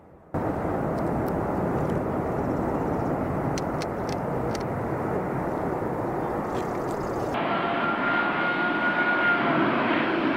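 A large, heavy 575-ton aircraft touches down on the tarmac with a loud, continuous engine roar that shifts abruptly in tone partway through as it lands.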